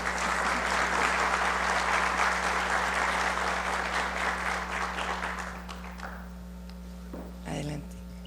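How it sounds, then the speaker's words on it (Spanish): Warm applause from a conference audience for a speaker, dense clapping that holds steady then fades out, followed by a low hum and a brief voice. "Démosle un caluroso aplauso,"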